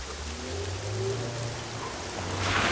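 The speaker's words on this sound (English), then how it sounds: "It is a rainy evening, and dark clouds cover the sky with rain flowing over the city roads." Rain falls steadily over city roads on a dark evening, a dense continuous hiss with low rumbling traffic undertones, close and enveloping with no voices.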